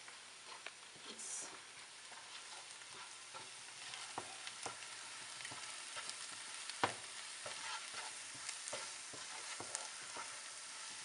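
About three tablespoons of pav bhaji masala frying in a pan, giving a faint, steady sizzle with scattered soft crackles and stirring ticks throughout, with no talking.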